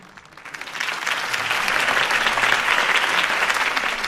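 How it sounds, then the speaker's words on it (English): A crowd in the Batman: The Telltale Series video game bursts into applause after a campaign speech. The clapping swells within the first half second into loud, dense, sustained applause that continues throughout. "If only Mr. Wayne, my campaign's largest backer, could have heard that applause"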